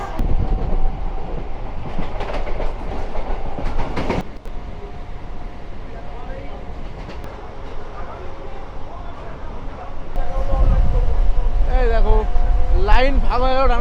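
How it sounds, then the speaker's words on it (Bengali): Bardhaman–Howrah chord line super local train running, a steady close rumble and rattle from inside the carriage that swells louder near the end, with voices talking over it. "আমরা কিন্তু জার্নি করছি বর্ধমান হাওড়া কট লাইনের সুপার লোকাল এই ট্রেন"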